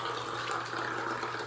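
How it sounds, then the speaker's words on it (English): Running tap water, a steady soft wash of liquid flowing at a sink, taken up for rinsing after a head shave, faint and continuous with no voices. "I just take a little water right here"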